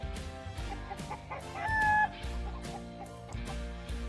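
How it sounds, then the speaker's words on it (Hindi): A hen clucking and crowing rooster calls used as a sound effect, repeated rhythmic clucks over a steady farmyard backdrop, fairly clear and alone without talk. "ये देखो बच्चों, ये है hen। hen को हिंदी में मुर्गी कहते हैं।"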